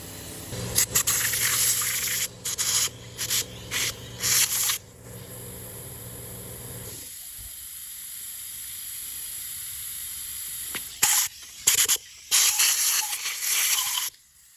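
Compressed air is blown into drilled holes in concrete while fitting base plate spigots for frameless glass pool fencing, producing loud hissing bursts in short repeated blasts, with a quieter stretch in the middle.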